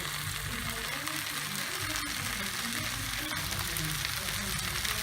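Garlic frying in a pot for beef stew gives a loud, steady, close sizzle with a constant bright crackling hiss and no talking.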